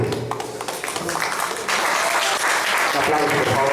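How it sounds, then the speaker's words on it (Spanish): Applause from the audience at a talk on political prisoners, a dense crowd of hands clapping that swells and stays strong, with a voice speaking underneath. "un aplauso, por favor."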